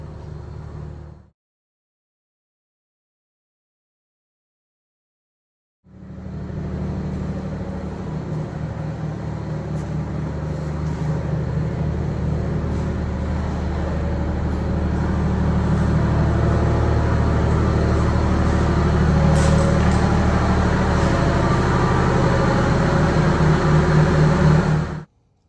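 A Wanderlodge bus with a Detroit Diesel 92 series engine is driven out, a steady loud low diesel rumble that starts after a short gap of silence and builds slightly, continuing to the end.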